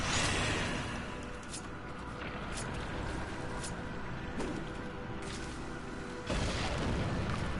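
A void bomb detonates in Darksiders 2, a rumbling in-game blast that swells into a loud sustained boom, with a second heavy burst near the end and a few sharp pops on top.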